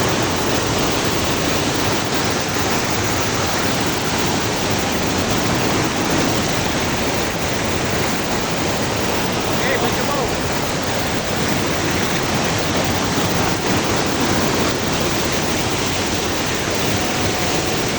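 Sprite Falls, a waterfall in Majayjay, Laguna, roars as a steady, loud broadband rush of falling water that stays constant and close throughout, with no voices over it.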